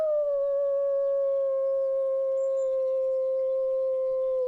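A person imitates a wolf howl in one long, steady, sustained tone lasting several seconds, loud and close with no other sound.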